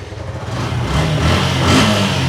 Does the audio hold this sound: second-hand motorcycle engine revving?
yes